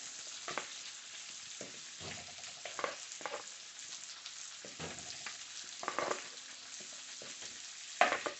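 Seasoned zucchini fries in a pan with a soft, steady sizzle, broken up by scraping and clattering as it is stirred, all fairly quiet and close.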